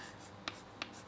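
An equation is written by hand for an electronics lecture, with two brief faint scratching strokes over a steady room hiss.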